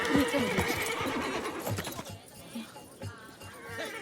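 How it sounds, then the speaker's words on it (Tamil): A spirited horse in a historical film neighs loudly up close with a shrill, shaky whinny, followed by hoof clip-clops and snorting, while people talk in the background. "இந்த குதிரையின் பெயர் பாதல். மிகவும் முரட்டுத்தனம் கொண்டது."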